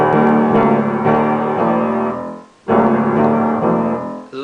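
Piano run-up in the left hand, played with pinky and thumb together, from a song's piano part: sustained ringing chords with a rhythmic rising figure, a short pause, then the passage repeats, loud and close.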